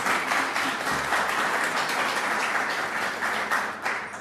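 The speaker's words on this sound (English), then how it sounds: "let's one more time have a round of applause for the choir." A congregation applauds the choir at an annual choir concert, a full, continuous round of clapping with a soft low hum beneath it, easing slightly toward the end.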